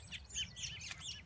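A rescued baby bird chirping, with faint high tweets and short calls repeating quickly across a brief moment over a low background hum, quiet and fairly close.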